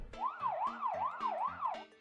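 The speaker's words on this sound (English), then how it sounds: "Oh, first time I hear like the siren." A wailing emergency siren in the Blue Archive video game, sweeping up and down in steady repeated cycles, clear and continuous at moderate loudness over faint background music, no voices.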